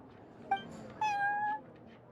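A cat meows twice close by, a brief chirp followed by a longer drawn-out meow, in a quiet room.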